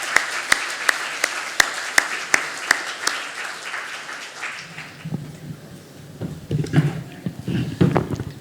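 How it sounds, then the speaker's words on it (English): Audience clapping for a speaker at an academic program, heard as a short run of sparse, sharp claps that thins out after a few seconds into quieter room noise and shuffling. "could we have another round of applause for our wonderful speaker?"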